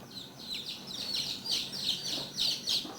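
Small orphaned chicken chick chirping in rapid repeated high peeps, fairly close and steady throughout.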